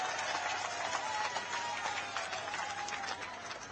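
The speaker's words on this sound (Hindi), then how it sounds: "तालियों की गड़गड़ाहट से पीछे के लाइन तक" Crowd applause at a Lok Sabha election campaign rally in Guna, a broad steady wash of clapping filling the space with no clear pauses.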